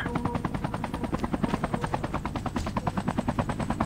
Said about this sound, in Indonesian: Nah tuh dia pakai helikopter tuh.